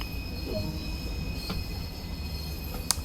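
Steam train from the Spirit of Steam add-on for the video game Train Sim World 2, a steady rolling rumble with faint wheel squeal and a brief sharp clank near the end.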